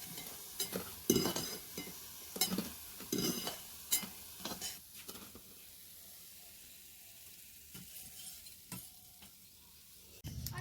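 Drumstick flower fritters fry in oil in a pan, with a soft sizzle under repeated scraping and clattering of a spatula, louder bursts early, then quieter frying, no talk.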